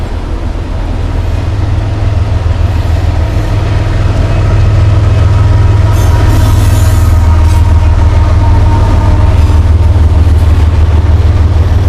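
A Norfolk Southern freight train with a DPU locomotive passes close by, producing a loud, continuous rumble and rolling roar of wheels and cars with a deep engine throb, steady throughout.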